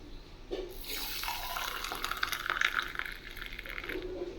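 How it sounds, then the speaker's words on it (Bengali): Boiled milk poured from a pot into a container in a home kitchen, a continuous splashing liquid stream rising and thickening over several seconds, close and fairly loud, with no talking. "ওর স্কুলের দেরিতে তাই দুধটা ঢেলে দিই"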